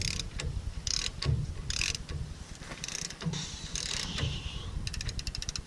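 Metallic ratcheting and clicking as brake bolts are tightened with a torque wrench during a disc brake conversion, in repeated short bursts, close and fairly loud, with no talking.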